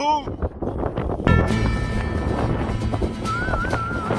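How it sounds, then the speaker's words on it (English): Gusty wind buffets the microphone outdoors, a rough rumbling roar with voices talking over it. "We have pretty windy conditions."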